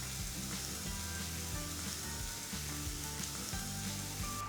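Beef entrecôte sizzles steadily in a pan, a constant close frying hiss with faint crackles and no pauses.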